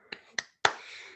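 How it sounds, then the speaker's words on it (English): One person claps alone, with three sharp close claps, the last followed by a brief ringing tail in an otherwise quiet room. "No one else is clapping. It's all right. I am."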